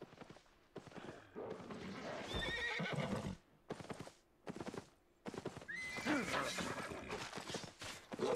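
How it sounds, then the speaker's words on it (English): Hooves clatter in a fast galloping rhythm as a horse whinnies loudly, in bursts with brief gaps, sound effects from the online game Albion Online. "No, he's on his horse"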